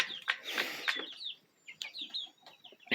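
Young chickens in a coop, some barred rock–like with feathered feet, give soft clucks and short high chirps in scattered close bursts with quiet gaps, no talk.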